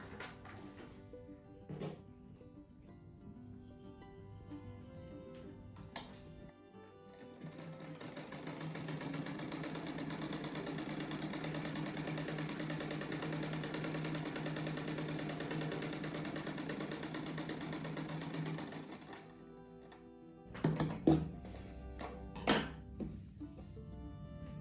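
A sewing machine stitches a rug, running in one steady continuous whir for about fourteen seconds, framed by a few clicks and thunks before and after as the fabric is handled, fairly quiet and close.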